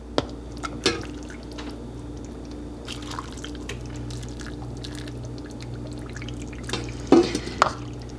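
Stock is poured into canning jars packed with chicken curry, with sparse soft drips and liquid trickles over a steady low background hum, no talking.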